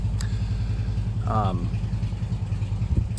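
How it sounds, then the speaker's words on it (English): A motorcycle engine rumbles nearby, idling and passing with a low throaty drone, while a voice is briefly heard. "Neighbor in a motorcycle."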